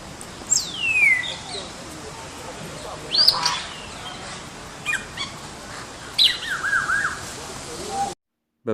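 Birds calling in a large open-air bird park under netting among tall trees in Isfahan, with parrots such as macaws: several loud squawks and whistled calls rising and falling over steady background chatter.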